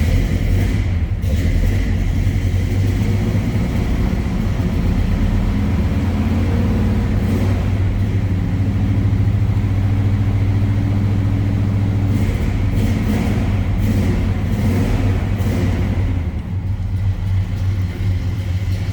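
A cold 1966 Pontiac GTO engine idles with a deep, loud, steady low rumble and a slightly uneven throb, heard up close for the whole stretch without any talking.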